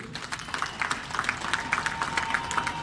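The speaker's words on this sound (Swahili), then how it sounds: "Ndugu wananchi, makofi kwa wabia wetu." A gathered crowd of residents in Nala, Dodoma gives a round of applause at the Tanzanian president's public address, a dense ragged patter of many hands at middle distance.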